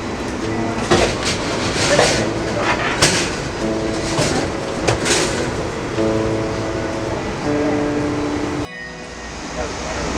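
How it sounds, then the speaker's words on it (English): Amtrak Coast Starlight passenger train pulling out of Santa Barbara station, heard from inside the car as a loud continuous rumble with rattles and clanks, while voices talk over it. "We are now departing Santa Barbara."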